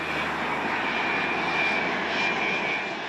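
Airliner touching down at Plaisance airport in Mauritius, a steady, loud broadband engine roar sustained throughout with a faint whine on top and no talk.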